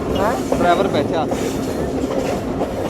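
A Pakistani local train running between Lahore and Shorkot gives a constant loud rumble of rolling wagons and rattling carriages, with people's voices talking over the din close by.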